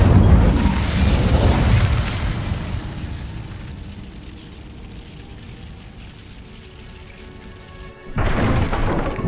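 A fire spell is cast in Hogwarts Legacy, a loud whooshing burst that roars up at once, then trails off into a long fading rumble before a second burst hits near the end.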